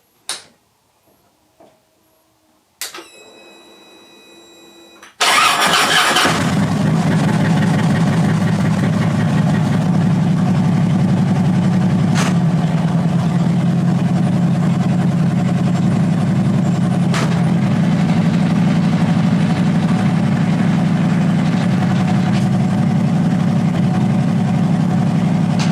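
A 2009 Harley-Davidson FLHTC trike engine, preceded by a few ticks and clicks, cranks and fires up, then settles into a loud, steady, low rumbling idle that runs on for about twenty seconds.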